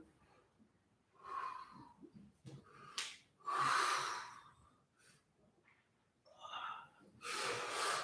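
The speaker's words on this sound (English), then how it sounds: "Keep breathing. Keep breathing." Loud, breathy inhales and exhales from a singer during a vocal breathing exercise, close to the microphone, arriving in uneven bursts separated by brief quiet gaps.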